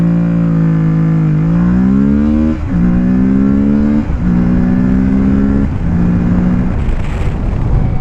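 A 2020 Kawasaki Ninja 650 motorcycle engine revs up in several close, loud climbs, each pitch sweep dropping back before rising again, with no one speaking.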